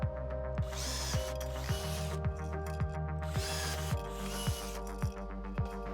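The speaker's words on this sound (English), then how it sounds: "drill out 2 holes using a 3/16 drill bit" A power drill with a 3/16 bit whirs and grinds through a metal bracket on a 2016-2021 Honda Civic in short bursts, its motor pitch dipping and rising with each push, close and alone.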